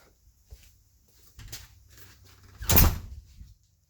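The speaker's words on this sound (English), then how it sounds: "I'm gonna close that door." An old door being pushed shut in a storage building, with a few soft knocks before a single solid thud that rings briefly, close by and alone.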